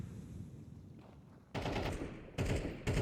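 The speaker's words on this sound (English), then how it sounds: "there's a lot of gunfire" Automatic gunfire erupts in a Counter-Strike match on the Anubis map during an ESL Challenger League game, coming in two loud sustained bursts after a quieter background.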